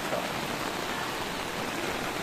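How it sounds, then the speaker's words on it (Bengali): Strong floodwater from a flash flood in Sherpur, Bangladesh rushes past as a dense, steady roar of moving water, loud and unbroken throughout. "ভিতর দা বেগম গতিতে স্রোত যাইতাছে, প্রচুর স্রোত যাইতাছে"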